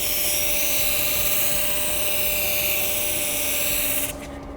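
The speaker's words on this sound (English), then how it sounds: "So I want to sand a straight line" A power sander runs on wood in a woodwork shop, a loud steady high-pitched whine held continuously before cutting off abruptly near the end.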